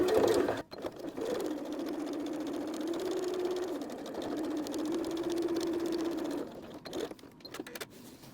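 A sewing machine runs steadily as it stitches in the ditch along a patchwork floor mat, a continuous close motor hum lasting several seconds, with brief pauses and handling noises at the start and end.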